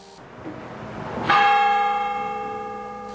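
A church bell at St. Matthew's Lutheran Church in Dubuque, Iowa, strikes once loudly, its ringing tone sustaining and slowly fading over several seconds.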